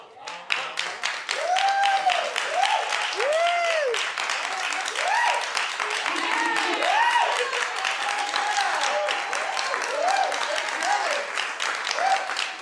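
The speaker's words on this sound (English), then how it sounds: "the overwhelming clapping that usually tells you when you're supposed to be enjoying the show falls flat" Studio audience applause, steady dense clapping throughout, with cheers and whoops rising over it, no clear speech.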